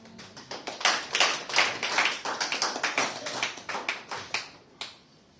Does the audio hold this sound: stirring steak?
no